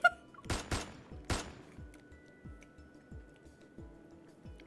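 A burst of several sharp gunshots in the video game Love and Deepspace, followed by a rapid string of quieter, evenly spaced shots that fade off.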